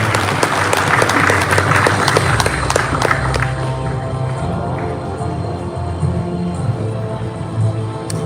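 An audience at a presentation of an economic roadmap to Anies Baswedan breaks into lively applause that is strongest in the first few seconds, then thins to scattered clapping over background music.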